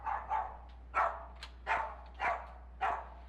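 A guide dog barks five or six times in sharp, evenly spaced woofs, fairly close and clear over a low steady hum, with no talking.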